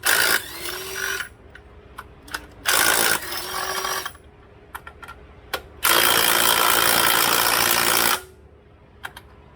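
A ratchet removes 14mm bracket bolts on a 2012 Nissan Altima, with several close, loud bursts of rapid clicking separated by quieter pauses and small tool knocks.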